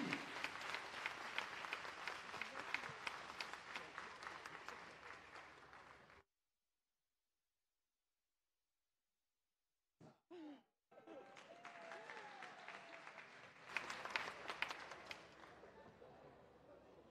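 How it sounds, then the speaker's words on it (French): An audience applauds a prize winner at a cultural conference, with dense sustained clapping that cuts out into silence for several seconds, then resumes after a brief burst with occasional whoops. "Je voudrais que la Guinée applaudisse Monsieur Eugène Ebodé Mawakaba pour son prix"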